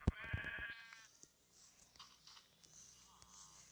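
Sheep bleating in the video game Minecraft (Pocket Edition 0.13.0), a short quiet bleat at the start followed by faint scattered game sounds.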